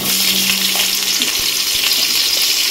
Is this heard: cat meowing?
no